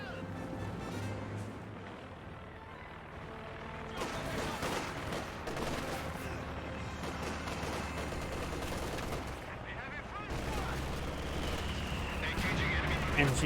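An MG42 machine gun fires amid other battlefield guns and explosions in Company of Heroes 2, with sustained bursts and booms rolling on in the background while a voice commentates over them.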